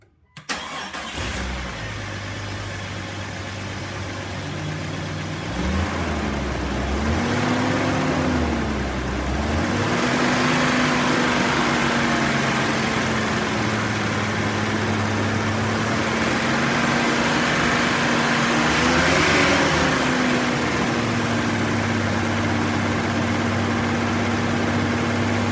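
A Jeep 4.7-liter stroker engine fires up and then holds a high idle of about 2,000 to 2,500 RPM with the throttle strapped open. It makes a loud, steady, close drone whose pitch climbs and settles, with no talking.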